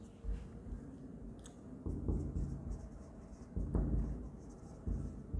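Marker or chalk scratching across a board during a Class 12 partnership accounting lesson, steady short strokes and taps at close range with no talk over them.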